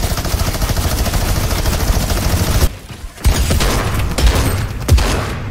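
Sustained rapid gunfire from a minigun in a shooting video game, a dense, loud continuous burst that drops out briefly near the middle, then resumes with heavy booming shots.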